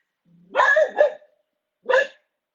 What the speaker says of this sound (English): my dog's right there having a good bark